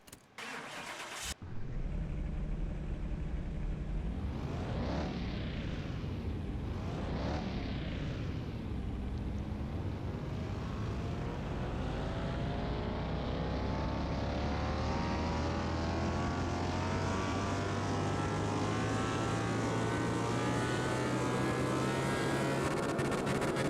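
A car engine in Car Mechanic Simulator 2021, running on a dynamometer, starts after a brief click, revs up twice, then holds a loud, steady drone that slowly climbs in pitch. No one speaks.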